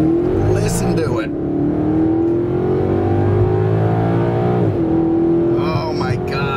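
A 2017 Maserati GranTurismo Sport Coupe engine revs hard and steady, its pitch climbing, dipping, then rising again, loud and close with a deep harmonic growl.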